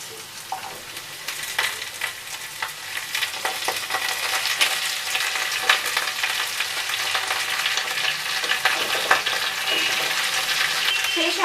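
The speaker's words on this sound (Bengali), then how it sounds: "পুঁই শাকটা দিয়ে দিচ্ছি।" Malabar spinach (pui shak) sizzles loudly in a pan of oil with pumpkin and green chillies, a continuous dense crackle with spatula stirring throughout, close and steady, no speech.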